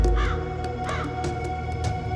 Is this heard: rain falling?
no